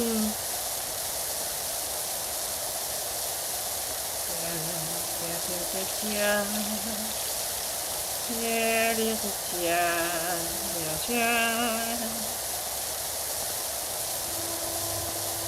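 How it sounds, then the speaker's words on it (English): A loud train passes in the distance behind a steady broad rumble and rush, with several long tonal horn blasts sounding in the middle. "I'm gonna wait for this train to pass by and continue talking, because it's loud."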